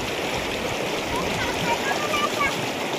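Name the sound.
river water flowing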